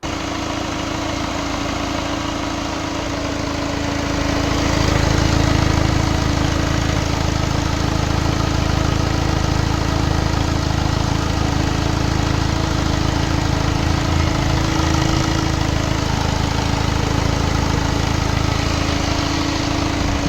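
A Tata Vista diesel car engine idles steadily nearby with a low, constant rumble and rattling clatter, swelling slightly a few seconds in and holding even throughout.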